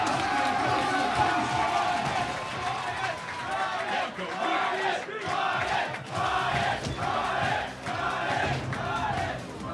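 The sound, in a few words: crowd cheering at a Street Fighter tournament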